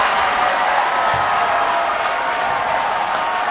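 A high school volleyball crowd in a gym roars with a broad, sustained wash of cheering and noise that stays loud and even throughout the short stretch.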